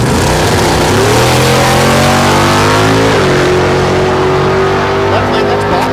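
A naturally aspirated big-block Mustang drag racing at Thunder Valley in Noble, Oklahoma, its engine revving loudly and climbing in pitch through gear changes, with an announcer talking over the roar.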